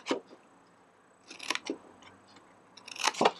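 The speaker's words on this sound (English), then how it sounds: "all of these little tabs, and I'm just going to snip away." Scissors snip through paper tabs on a craft tea light box in a few short, crisp bursts, with quiet pauses between the cuts.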